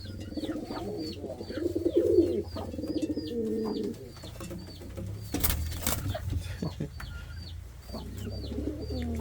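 Indian fantail pigeons coo in a low, rolling murmur, with repeated sharp chirps from other birds above and a brief burst of noise midway, all moderately close.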